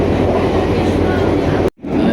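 Loud, steady rumble and rattle of the BIAS train running from Sragen to Solo, heard from inside the carriage, with a brief sharp dropout near the end before the noise resumes.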